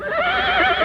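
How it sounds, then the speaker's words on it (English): A horse whinnies in a long, loud, wavering neigh lasting close to a second, with no clear hoofbeats beneath it. "Outside, Brombones dashed up on his horse, Daredevil"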